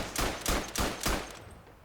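Gunfire in the video game Verdun, four quick loud rifle cracks fired close together in a short volley, fading into a brief echo.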